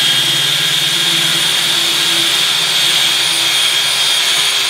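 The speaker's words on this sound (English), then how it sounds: "let's see what happens here and how hard this is going to be to drill through." A loud, continuous high-pitched drill whine drilling through a child's art desk, running steadily without pause, harsh and close, with no voices.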